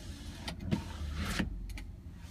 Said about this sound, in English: You also have the power window in the back.